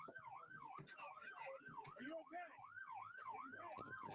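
An emergency vehicle siren plays from a video, a rising and falling wail repeating steadily, fairly faint and slightly muffled, with a few faint background noises.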